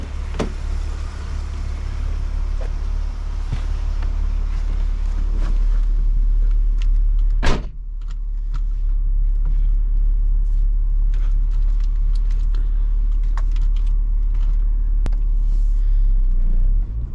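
BMW E36 M3 on BC Racing coilovers driving on a test drive, a loud steady low rumble of engine and road noise from inside the car, with a sharp thump from a bump partway through.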